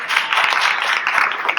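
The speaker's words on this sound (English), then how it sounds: "So please give her a round of applause" An audience breaks into brief, steady applause, dense clapping from many hands heard close and fairly loud without voices on top.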